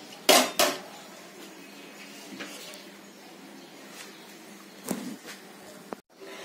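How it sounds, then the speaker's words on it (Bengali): Whole unfried potatoes are set into a pot of mutton curry, with a couple of loud clanks of metal utensils against the pot at the start and later, over a quiet background. "না ভেজেই গোটা গোটা আলুগুলো এর মধ্যে এবার সাজিয়ে দেব"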